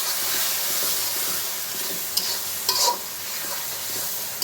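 Beef frying in a pot with ginger, garlic and salt, giving a steady hissing sizzle with a few brief clinks of stirring, moderately quiet and without speech.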